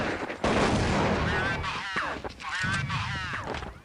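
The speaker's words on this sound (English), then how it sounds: "Grenades going both directions here." Grenade blasts and bursts of gunfire ring out in a Counter-Strike match, with a dense, steady roar of explosions and shots beneath a commentator's voice.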